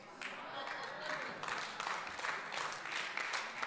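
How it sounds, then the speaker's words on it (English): A church congregation claps lightly and unevenly, a soft scattered patter of hands that rises and falls over a few seconds, heard from within the room. "I know you're like cautiously clapping."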